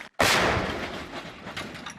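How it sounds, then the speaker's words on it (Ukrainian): A single heavy artillery blast booms after a brief silence, then rumbles and decays into a long, rolling echo. "Армата! Постріл!"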